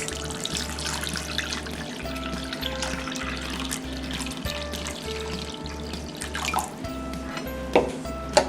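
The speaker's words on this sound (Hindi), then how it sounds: "और हम इसमें पानी डालेंगे 4 गिलास।" Water poured from a glass into a large bowl of ground aam panna mango mixture, a steady close splashing stream with a few brief drips and clinks, no talking.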